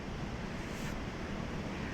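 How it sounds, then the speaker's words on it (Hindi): Waterfall near Atri Muni ashram on a mountain trek, a steady broad rushing roar of falling water filling the background without pause. "ये जो बीच में आपको झरने की आवाज़ सुनाई दे रही है"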